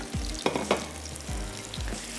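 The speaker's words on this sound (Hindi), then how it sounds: "तो एक दफ़ा मसाले, चिकन, टमाटर, तमाम चीज़ों को हमने अच्छा सा भून लेना है" Chicken with spices and tomatoes frying together in a pan for korma, a steady close sizzle with a few brief stirring scrapes and bursts throughout.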